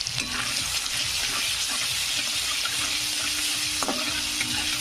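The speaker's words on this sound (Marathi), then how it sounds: "कांद्याला फ्राय होऊ द्यायचं" Chopped onion fries in a hot pan with salt for a cabbage dish, a steady close sizzle with faint stirring scrapes and a short clink near the end.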